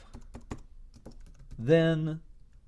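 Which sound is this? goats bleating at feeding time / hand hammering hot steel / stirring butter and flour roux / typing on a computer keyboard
typing on a computer keyboard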